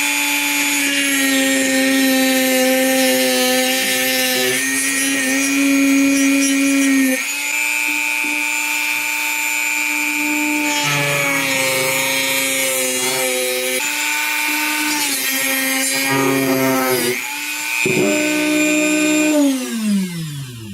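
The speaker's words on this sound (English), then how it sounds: "Now I'm going to cut off this top section here with my cut-off wheel on the Dremel." A Dremel cut-off wheel cutting through the top section of a carbon cork trekking pole produces a loud, droning whine that shifts pitch as the wheel bites and eases. Several brief pauses break the grind, and it winds down at the end.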